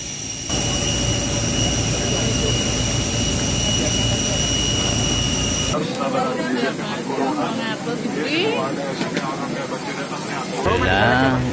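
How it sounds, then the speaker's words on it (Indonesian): Saudi Arabian Airlines jet engines roar at an airport as pilgrims board the aircraft, a loud steady whine and rumble that drops back halfway through as voices and crowd chatter come forward. "Setiba di airport, mereka langsung boarding untuk masuk ke dalam pesawat Saudi Arabian Airlines"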